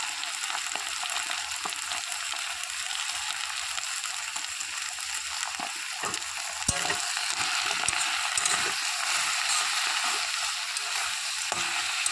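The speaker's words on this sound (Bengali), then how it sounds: "একেবারে শুকনো শুকনো করে ভাজতে হবে এটিকে" Kharkol leaves fry dry in a pan with a steady, close broadband sizzle that holds throughout, broken by occasional clicks and stirring knocks; no one speaks.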